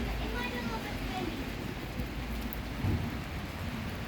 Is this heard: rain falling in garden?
yes